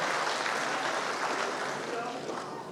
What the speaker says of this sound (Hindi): एक बार बहुत जोरदार करतल तालियों से इनका अभिवादन करें।